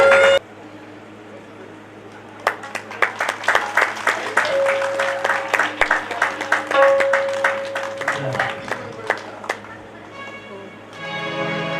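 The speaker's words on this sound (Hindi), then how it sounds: "सब लोग ताली बजाएंगे।" An audience at a Shrimad Bhagwat Katha religious discourse claps, starting as scattered separate claps and building into a fuller round before thinning out, with a sustained tone and some voices in the background.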